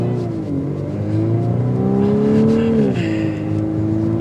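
A 2024 Volkswagen Atlas Cross Sport SEL Premium R-Line accelerates from inside the cabin, its engine and exhaust note swelling and rising in pitch, then dropping with a gear change, loud and steady throughout.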